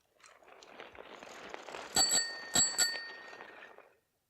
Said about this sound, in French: la sonnette de son vélo